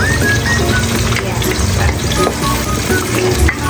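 Garlic frying loudly in a pan, a dense close sizzle with scraping and stirring squeaks throughout, heard without speech.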